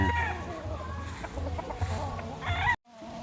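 Chickens and roosters at a chicken farm cluck and call close by, with a brief crow-like call near the end, before the sound cuts out abruptly.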